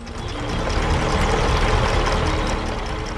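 Two tractors, one red and one green, idle in a wide field ringed by trees, their engines giving a steady, loud, low rumble that runs unbroken.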